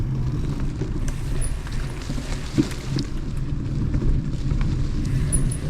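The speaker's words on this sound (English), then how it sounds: "A lot of two-way traffic for about a mile." Steady road noise as cars pass in two-way traffic during a ride on a 2024 Santa Cruz Epic bicycle, a continuous low rumble with wind and passing vehicles.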